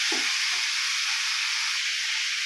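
Chicken and potatoes are stirred in a hot pan, giving a loud, steady, close sizzling hiss that runs throughout, with a brief scrape of the utensil at the start.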